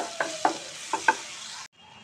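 Green chilies tossed in melted butter in a pan, a continuous sizzle broken by four quick stirring scrapes, close up, cutting off abruptly near the end.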